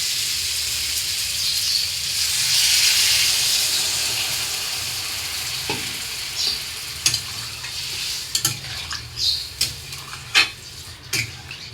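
Water poured into a pan of sautéed yam and taro curry, a loud rushing hiss and sizzle that settles into a steady simmer, followed by scattered clinks and stirring knocks against the pot.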